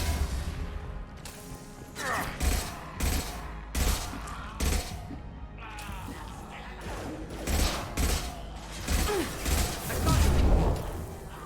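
Bursts of gunfire and impacts in a Mass Effect 2 Legendary Edition firefight come in repeated sharp volleys over a steady low rumble, with game voices mixed in.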